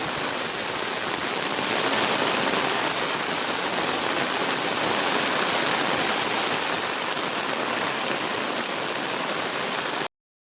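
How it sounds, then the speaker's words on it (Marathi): Heavy monsoon rain pouring in Konkan beside a river in flood, a dense, unbroken roar of rainfall and rushing water that stays loud and even throughout with no voices. "कारण पावसाचा जोर वाढलाय ना, त्यामुळे आता पाणी वाढेल इकडं"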